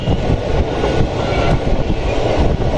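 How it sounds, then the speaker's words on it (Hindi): A train running through Lalitpur Junction without stopping, heard from inside a coach as a steady close rumble of wheels and carriages with faint clatter, no voices. "ट्रेन अभी स्किप कर रही है ललितपुर जंक्शन को"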